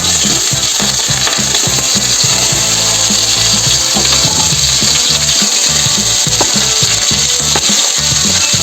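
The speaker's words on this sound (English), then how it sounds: "Then you toss the chopped onions." Chopped onions hit hot mustard oil in a pan, giving a loud, steady sizzle full of crackling pops that continues without pause. No one speaks.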